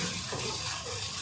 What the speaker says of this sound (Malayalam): കുറച്ച് വെളിച്ചെണ്ണ ഒഴിക്കാം നമുക്ക്.